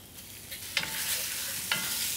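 Beef pieces sizzle in a hot pan with olive oil, a dense continuous hiss punctuated by two sharp clatters of tossing or stirring.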